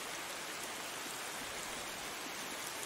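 Rain pouring down on a house, heard as a continuous close wash of patter and hiss that holds level from start to finish, no speech.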